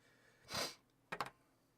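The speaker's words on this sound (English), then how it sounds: "I got a sniffle." A person gives one long sniff followed by a quick double sniffle, close and quiet, with no talking.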